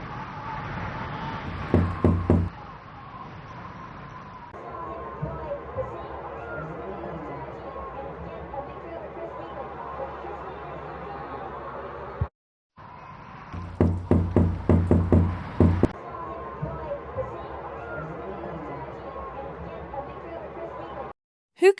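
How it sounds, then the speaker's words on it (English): Rapid bursts of knocking on a door come in two separate clusters, loud and sharp, with a low hum and faint background noise running underneath between them. "Who could be knocking at this hour? In this weather?"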